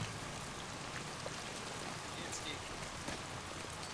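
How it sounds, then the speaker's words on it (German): Rain in the video game Days Gone, a soft, continuous patter of drops on surfaces. It is fairly quiet and even throughout, with a few slightly sharper drips standing out. "es regnet"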